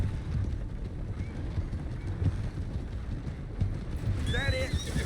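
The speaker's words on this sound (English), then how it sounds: "Vai pra frente, ô cavalo." Horse hooves clip-clop steadily in Red Dead Redemption 2 under wind and ambient noise, with a brief whinny-like tone near the end.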